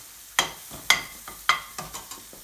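Spices for a hot Madras chicken and potato curry sizzle in a pan with garlic, with several sharp clattering stirs or spoon knocks rising over a faint, quiet fry and no talk.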